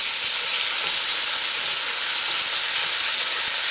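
Bacon frying in a pan, a steady, dense sizzle with crackling spatter throughout, close and fairly loud, with no voices.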